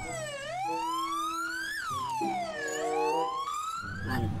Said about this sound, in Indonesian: ambulans warna putih